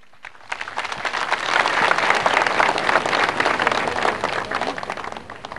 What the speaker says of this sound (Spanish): para el cual pido un fuerte voto de aplausos